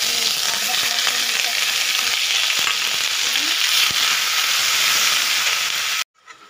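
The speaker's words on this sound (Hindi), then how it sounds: "कटहल फ्राई हो गया है और इधर आलू भी फ्राई कर लेते हैं।" Jackfruit and potatoes fry with spices in a pan, making a loud, continuous close sizzle with faint stirring scrapes that stops abruptly near the end.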